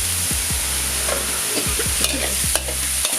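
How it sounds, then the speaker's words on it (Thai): Chili and garlic are stir-fried in hot oil for squid stir-fry, with a steady close sizzle and the rhythmic scrape and clack of a spatula in the pan over a low engine-like hum, with no talk. "ผัดพริกกับกระเทียมให้หอมก่อนนะคะ"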